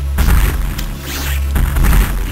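Missiles fired and detonating in the Metroid Fusion video game, heavy booming impacts landing in quick succession, loud and close, with a lull midway before another blast.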